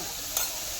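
Paneer and spices being mixed in a frying pan, a brief soft sizzle with a single quick scrape of the spoon.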